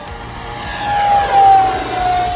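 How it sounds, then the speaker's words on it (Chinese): A radio-controlled model J-20 fighter jet makes a high-speed pass, its loud whining jet roar swelling to a peak as it rushes by close overhead, with a pitch that shifts as it passes. "高速通场。"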